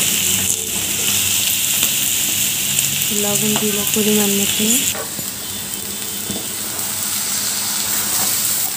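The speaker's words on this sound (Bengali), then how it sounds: "এখন চালটাকে ভালোভাবে আমি ভেজে নেব" Drained rice fries and is stirred in a hot pan, a loud continuous sizzle with scraping stirs, while someone speaks briefly over it and a clatter interrupts midway.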